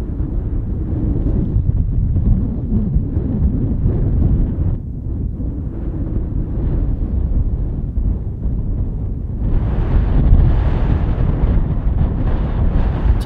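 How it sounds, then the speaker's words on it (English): Steady wind rumbling against the microphone, continuous low roar that swells louder near the end, with no talking, on a cold morning in Utah's Red Desert. "It is still quite windy."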